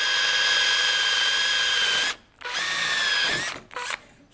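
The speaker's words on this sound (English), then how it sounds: "And now I'll just drill" A power drill bores holes through a motorcycle exhaust can, a loud, close, high whining buzz that runs steadily, cuts out, then spins up again in two more bursts as the bit bites through the metal.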